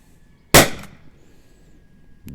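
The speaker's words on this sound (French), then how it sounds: "On lance le test et c'est parti pour les 5 tirs" A single sharp, loud report from a Caldwell LTL Alfa 1.50 defense launcher firing rubber balls, with a quick decaying tail, then near silence and a faint click at the end.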